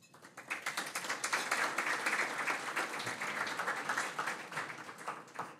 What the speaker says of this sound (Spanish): a quien recibimos con un caluroso aplauso.